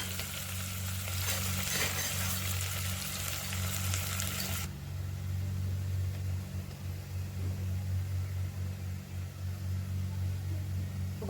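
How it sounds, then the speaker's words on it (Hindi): Vegetables with boiled chickpeas and potatoes fry and get stirred in a pan in a home kitchen, a steady close sizzle with scraping stir sounds, brighter and louder for the first few seconds then settling into a lower continuous frying hiss. "जब मैंने सब्जी छोक दी है"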